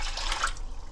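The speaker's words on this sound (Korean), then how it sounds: "이제 물 갖다 부어야지" Water runs and splashes steadily into a pot, a continuous pouring stream in a home kitchen while stock is being made, close by and fairly quiet for under a second.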